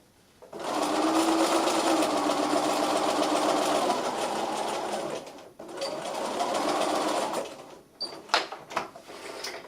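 A sewing machine stitches the curved seam of a soft toy bear, whirring loudly and steadily for several seconds, pausing briefly, running again, then stopping amid a few clicks and handling knocks.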